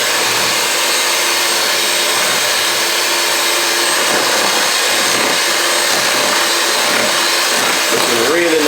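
An electric mixer creams sponge cake batter with a loud, continuous whirring drone that stays steady throughout, close by, with a faint scraping change near the end.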